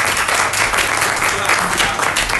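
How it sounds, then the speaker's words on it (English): Loud, dense audience applause at a live-streamed event fills the whole moment, a continuous close burst of many hands clapping with no pause. "Please, let's give him a round of applause"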